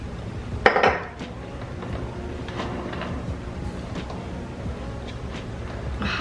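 A spatula scrapes and clinks against a plate or pan while spreading homemade salted caramel over a spice cake layer, with a short louder clatter near the start and then soft, steady scraping.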